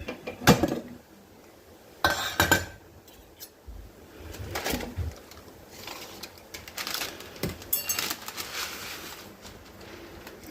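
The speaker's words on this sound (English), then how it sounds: "all I have to do is mix this all up into a nice chaat." Sweet corn bhel chaat being tossed and mixed in a metal vessel, with scattered clinks and scraping bursts of utensil against the bowl, loud at first and then more irregular, with no talking.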